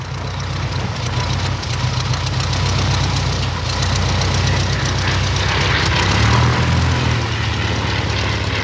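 An SE-5A biplane's aircraft engine and propeller roar loudly and continuously nearby, with a low throbbing drone that swells slightly toward the end.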